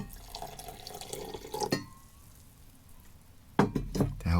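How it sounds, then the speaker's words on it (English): Warm water poured from a tap or spout into powdered drink mix from a Swedish 24-hour ration pack, a steady splashing pour that briefly stops and then resumes with louder, close-up gurgling. "we're going to actually use just a little warm water"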